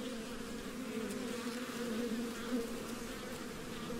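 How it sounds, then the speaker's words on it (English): Dense, steady hum of many honey bees buzzing close by in an open hive after a package install, continuous with a low droning pitch and no voices. "Lots of bees in there, like to see that."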